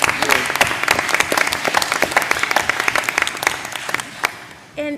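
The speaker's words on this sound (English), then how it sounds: "Big applause to you and the students." Applause from a roundtable audience at a school choice event, a dense run of many hands clapping at steady volume that stops abruptly as a voice begins at the end.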